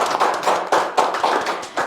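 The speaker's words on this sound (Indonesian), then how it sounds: "Tepuk tangan dulu dong, pemirsa." Studio audience clapping, a short burst of steady rhythmic hand claps at close range with no talking over it.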